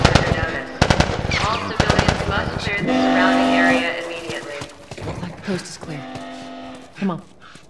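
Gunfire in The Last of Us, with rapid bursts of shots in the opening seconds and later, mixed with shouting voices and a low droning tone.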